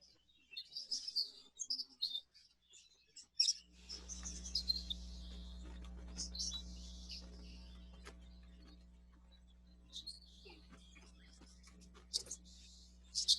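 Budgerigars chirp and twitter in an exhibition aviary, a busy scatter of short bright calls throughout, joined partway by a steady low mechanical hum.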